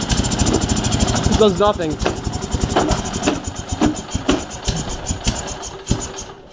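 A Sears SS16 snowblower engine runs after a -25°C cold start with its choke frozen on, a loud, uneven chugging idle with knocking pulses, while people talk over it.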